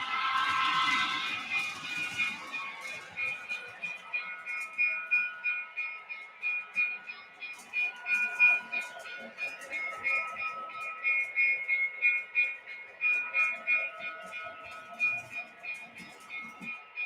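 A train running in a video game, a steady tonal hum with a sustained whine and faint rhythmic clatter that continues for the whole stretch at moderate level.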